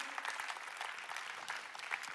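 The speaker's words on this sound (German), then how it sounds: "Lass uns für das einen Applaus geben, weil es ist Kirchengeschichte." A church congregation claps together, a dense, even patter of applause that sounds somewhat distant and carries on without a break.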